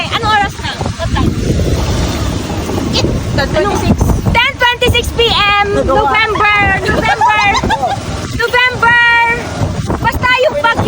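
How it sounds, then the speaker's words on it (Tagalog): Gusty super typhoon wind rumbles against the microphone while several people talk over it. "And sobrang lakas na ng hangin."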